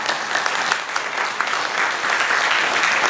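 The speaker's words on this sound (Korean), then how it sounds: "박수로 감사합니다, 사랑합니다, 그런 마음으로 박수하시겠습니다." A church congregation at a Korean Sunday service claps throughout, a full, dense and steady round of applause heard alone.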